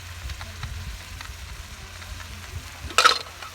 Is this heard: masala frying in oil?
yes